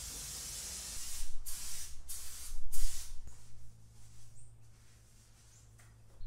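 A spray can applies primer and black paint to metal rock sliders in a garage, several close, loud hissing bursts in quick succession, then a fainter hiss over a low hum.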